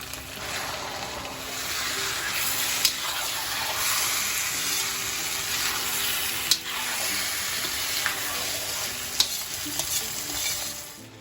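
Boneless chicken, 1.5 kg, tipped into a hot pan with ginger and garlic for karahi, a loud, steady sizzle and frying hiss with a few sharp pops and some stirring throughout.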